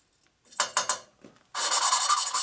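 A Harley big-bore cylinder head valve is lapped with a lapping stick, making a close gritty rasp that comes in short twisting strokes before turning into a longer, steady, harsh grinding.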